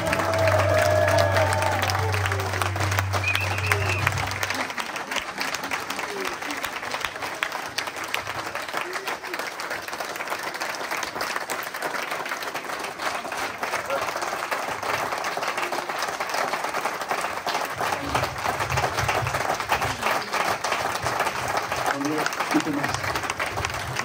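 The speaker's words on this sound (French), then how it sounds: "Je vous demanderai de bien vouloir vous lever et de les applaudir très chaleureusement." At a retirement honour ceremony, an audience applauds the retiring couple. Sustained, dense clapping carries on for the whole stretch, with some voices over it and a few sustained tones near the beginning and end.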